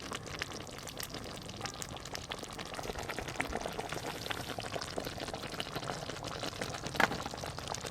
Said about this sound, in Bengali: ভালো করে ফুটে গেছে, এবার ঢেলে নেব।